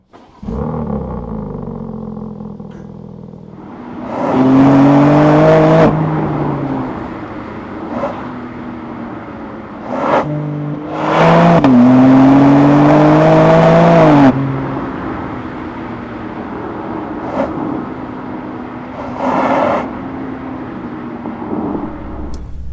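A BMW M2's engine roars through several hard acceleration pulls with rising revs, loud and close, separated by quieter cruising stretches; no one speaks.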